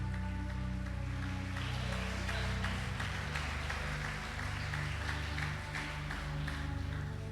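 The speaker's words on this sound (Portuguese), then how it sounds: "pode aplaudir o nome do Senhor" A church congregation claps over a low, sustained hum of music, a soft, even patter of applause that stays faint and continuous.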